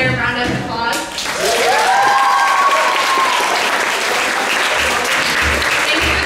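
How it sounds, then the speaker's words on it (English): A concert audience at a percussion ensemble and dance show breaks into loud, sustained applause with a few whistles, after a brief voice at the start. "Can we get another round of applause?"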